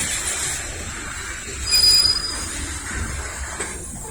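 A Norfolk Southern freight train rolls slowly through a rail yard in Lynchburg, Virginia, with a steady low rumble, faint high wheel squeals rising briefly in the middle.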